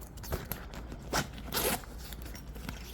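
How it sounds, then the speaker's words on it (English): A zipper on the front pocket of an Evergoods CTB 26 backpack is pulled open one-handed: a few quick, raspy zips in short bursts, close and fairly quiet, with no talking. "These zippers function one-handed really nice and easily"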